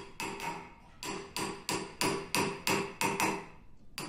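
A silversmith raises a silver beaker from a flat disc by hammering it over shaped formers: about nine sharp, ringing metallic blows in a steady, close rhythm, each decaying briefly before the next.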